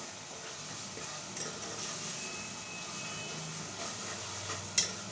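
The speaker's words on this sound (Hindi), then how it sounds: "हल्का सा ना इसके अंदर अजवाइन का तड़का दूंगी थोड़ा सा ना" Steady hiss of spices sizzling in hot oil, continuous and moderately close, with a brief sharp crackle near the end.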